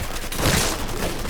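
A short, dense burst of gunfire in the video game Mafia 3 Definitive Edition, loud and continuous with no clear gaps.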